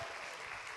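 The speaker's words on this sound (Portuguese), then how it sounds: "Vamos recebê-los com uma salva de palmas para Jesus." A church congregation claps steadily, a dense wash of applause that holds at an even level from start to finish.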